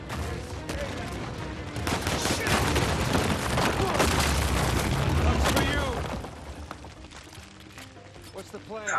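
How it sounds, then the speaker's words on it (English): Dense enemy gunfire in Uncharted 4, rapid overlapping shots and bursts with booms rolling on for several seconds, then thinning out toward the end, with game voices talking underneath. "they're up top shooting at us"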